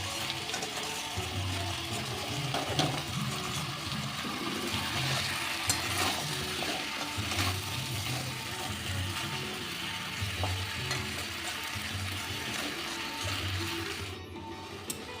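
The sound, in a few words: stir-frying mutton and prawns in a pan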